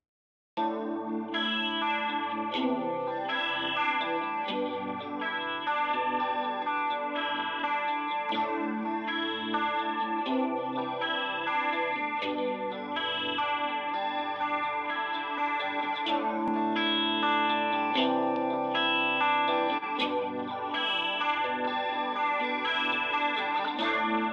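A sustained synth-like tone run through an LFO modulation effect, with a wavering, swirling modulation that pulses rhythmically throughout, thick with chorus and slight distortion.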